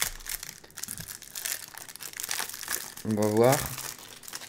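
A foil packet of Pokémon energy cards crinkles and tears as it is opened, the crackling rising to a sharp burst near the end, while someone speaks French over it.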